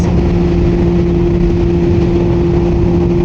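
Motorcycle engine running at high revs while riding without a gear indicator, a steady, droning hum with a constant low tone and unbroken road and wind rush, loud and close throughout.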